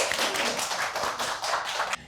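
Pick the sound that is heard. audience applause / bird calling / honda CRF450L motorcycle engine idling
audience applause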